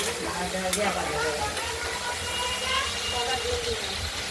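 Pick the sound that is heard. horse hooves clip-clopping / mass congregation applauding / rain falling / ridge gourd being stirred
ridge gourd being stirred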